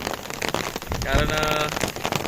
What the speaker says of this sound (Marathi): पावसाने खूप जोर केलेला आहे